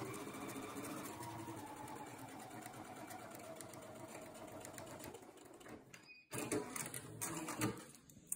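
A sewing machine stitches fabric pieces for a storage triangle, running in a fast, steady mechanical whir before a brief pause, then restarting in shorter bursts; quiet and close, with no talking.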